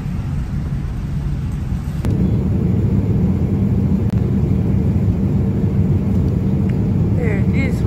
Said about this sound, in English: The plane has started moving,